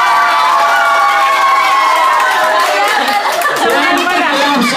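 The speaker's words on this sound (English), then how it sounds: "Who's in favor of contestant number one? Okay, very good. 20 claps, ha?" Guests at a birthday party games session cheer and clap for a contestant, a loud, dense burst of shouting, whooping and chatter from a close crowd including children's voices, sustained throughout.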